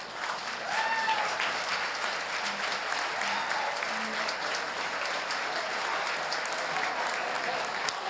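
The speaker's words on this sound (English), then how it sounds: "Can you all stand up and give them a round of applause for this beautiful decor?" A gala crowd at the Greater Stillwater Chamber event claps for the decor, sustained even applause at a moderate distance with faint voices mixed in.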